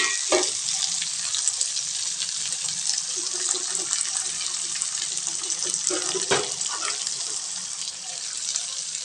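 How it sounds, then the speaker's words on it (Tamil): Onions frying in oil with fennel seeds, cumin and curry leaves, a steady hiss of sizzling with occasional stirring clatter, close by and unbroken for several seconds. "வெங்காயம் நல்லா வதங்கட்டுங்க"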